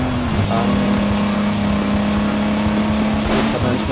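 A race car engine in FlatOut 2 drones loudly and steadily at a constant pitch, a close buzzing hum with rough low rumble beneath and brief higher whines toward the end.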